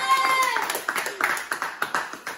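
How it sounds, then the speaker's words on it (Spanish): A small studio audience on a Spanish-language talk show claps in a steady rhythm of distinct, close hand claps after a brief stretch of voices. "Alexia Gabriela Barrechal Andazzi, un aplauso para"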